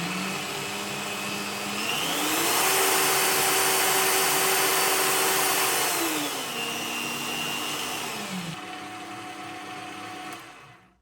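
Bosch PBD 40 drill press running at speed 1 on its low gear range, a steady motor whine with a pitch that rises, holds, then falls back before the sound fades away at the end.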